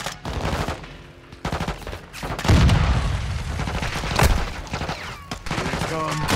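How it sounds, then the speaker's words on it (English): Grenade blast amid gunfire in Modern Warfare II: repeated sharp shots and bursts, then a heavy low boom about midway, with loud bangs continuing after, dense and close. "That's a grenade."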